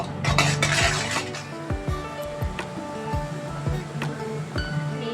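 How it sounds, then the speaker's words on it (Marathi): Masala paste for egg curry frying in oil in a pan over low to medium flame, with a spoon scraping and clinking against the metal in irregular strokes, close and fairly loud. "या वाटणाला मी लो टू मीडियम फ्लेमवर छान असं तेल सुटेपर्यंत परतून घेणार आहे"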